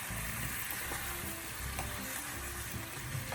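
Apples fry in melted butter and sugar in a pan for a tarte tatin, giving a steady, dense sizzle with faint stirring scrapes and no talk.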